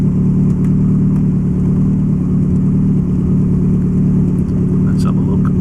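Lotus Excel engine idling steadily on its first start after restoration: a loud, even mid-range drone heard close by, with someone talking over it.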